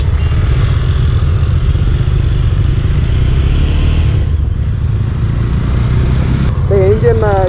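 Jawa 42 motorcycle engine running at a steady idle, a loud continuous low rumble held throughout, with a brief higher whine near the end.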